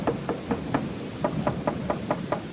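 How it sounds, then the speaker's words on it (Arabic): Knuckles rap on a house window on a cold night: two bursts of quick, evenly spaced knocks, about four and then six, close and fairly sharp, with no voices. "سأجرب أن أدق النافذة لعلهما يسمعانني"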